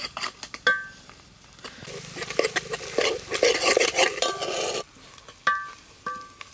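Freshly pounded ginger garlic paste stirred into hot oil for a mutton head and bone curry, with a sizzle swelling in the middle and sharp metal spoon scrapes and clinks against the pan before and after.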